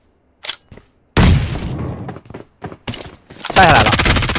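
In a shooter video game, a grenade goes off with a sharp blast, followed by more booms and a burst of rapid gunfire. The shots are close and loud, broken by short gaps.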